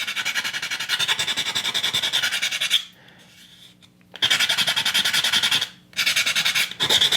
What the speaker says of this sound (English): Just using a coarse sanding stick.